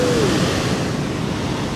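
Ocean surf of roughly 2.5 metre waves breaking on a beach: a continuous, loud, roaring wash of water with some wind, and no voices.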